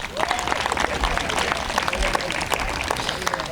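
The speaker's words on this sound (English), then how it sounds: "Oh, Mr. Wally's got quite an applause there." An audience at a technical school graduation ceremony claps loudly and continuously in a dense wash of applause, close and sustained throughout.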